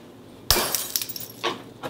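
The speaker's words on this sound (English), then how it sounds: "how do I know that this glass is about to shatter?" A drinking glass shatters with a sharp impact, then scattered tinkling shards and a couple of later clinks, fairly close and with no talking.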